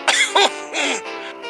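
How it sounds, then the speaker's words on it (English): A cartoon engine character's feeble coughing, performed by a voice actor: a few weak, raspy throat bursts in quick succession, close and fairly loud, with no other talk. "Henry coughed feebly."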